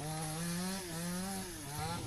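Chainsaw cutting fallen trees and branches to clear a road after a storm, a steady loud whine with pitch dipping and rising as the blade bites into the wood, continuous throughout.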